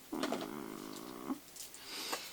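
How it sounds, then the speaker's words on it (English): A cat lets out a long, drawn-out whining meow, fairly close and moderately loud, followed by softer shuffling sounds. "Y'all hear Brie? She's mad."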